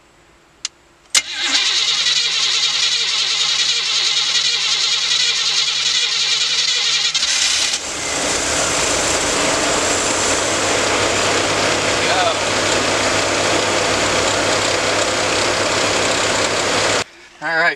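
A Chevrolet G20 van engine cranks and fires at about one second, then settles into a steady, loud idle that runs close by for most of the clip before cutting off near the end.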